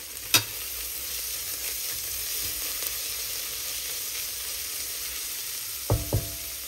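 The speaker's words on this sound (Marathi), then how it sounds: "स्टर करता." Food frying in a pan after salt is added: a continuous close sizzle with a few sharp clinks and scrapes of a utensil stirring, no talk.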